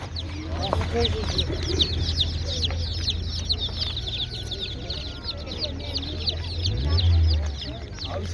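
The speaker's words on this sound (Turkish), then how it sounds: "Bunların hepsi köy civcivi değil mi?" Lots of village chicks cheep and peep constantly in a high chorus at a poultry market in Çubuk, Ankara, with low hum and some background voices in a busy outdoor space.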